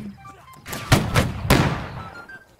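Musket volley fire in Holdfast: Nations At War, two or three loud, close booming shots in quick succession with ragged reverberating tails, faint voices beneath.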